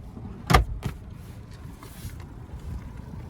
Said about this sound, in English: There's a lockable glove compartment here.